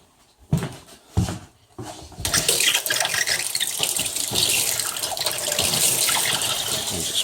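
Water and air bleed out of a Goodman hydronic air handler with a faulty check valve: two sharp knocks, then a steady loud hiss and rush of spraying water that holds for several seconds.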